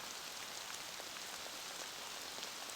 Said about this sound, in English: a little bit calming rain